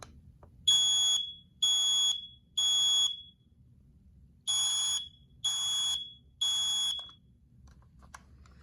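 Smoke alarm from Ace Hardware, dated 2021, sounds during a test: two sets of three loud, shrill beeps separated by a short pause over faint background hum.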